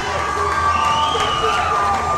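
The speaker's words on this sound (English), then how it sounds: "Crowd going nuts I for this young man in the Prophet" Wrestling crowd at a Northern Impact Wrestling show in Forest Lake, Minnesota cheers and shouts wildly and continuously, a dense roar of many voices with whistles rising above it.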